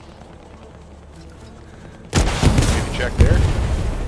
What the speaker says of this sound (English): Tank shells.